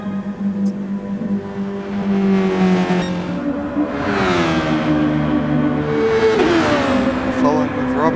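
Race cars in Gran Turismo Sport lap Circuit de Sainte-Croix B in a Formula 2 event, engines revving and shifting in rising and falling whines, loud and close, with a commentator talking over them.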